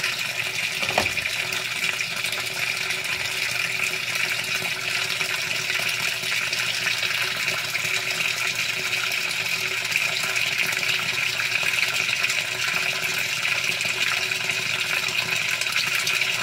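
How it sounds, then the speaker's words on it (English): A 2017 Whirlpool Cabrio washing machine fills with water during a darks load on pre-soak, a steady, continuous rushing gush of water pouring into the drum, close and unbroken throughout with no talking. "That's a lot of water."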